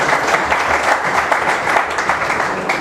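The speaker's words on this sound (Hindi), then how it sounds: "तो एक बार जोरदार ताली हो जाए वीडियो के लिए भाई" Loud, sustained applause from a classroom audience for students after their performance, dense and even clapping filling the space without pause and without talk.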